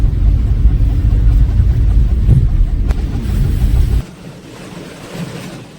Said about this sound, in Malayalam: ദേ ഇപ്പം കാറ്റും ആയിട്ടോ.